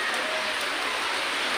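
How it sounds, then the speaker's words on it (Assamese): Rain from Cyclone Remal falls steadily in Assam as a soft, even hiss with no pauses over the short stretch. "এতিয়া বৰষুণ পৰি আছে, কালি ৰাতিৰ পৰা বৰষুণ যে পৰি আছে।"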